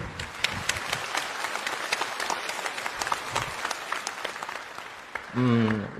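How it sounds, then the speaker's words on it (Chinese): An audience claps warmly for the speaker's mother, a sustained wash of applause lasting several seconds before a voice begins speaking over its tail. "请大家为她献上掌声"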